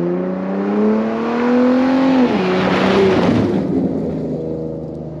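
A loud, throaty exhaust from a third-generation Ford F-150 Raptor pickup drones steadily, its pitch dipping midway before a rougher burst of rumble, then settling back to a lower idle.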